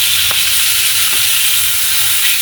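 Fish fries in oil over a low flame, giving a loud, steady sizzle with a few faint pops and clicks and no voices.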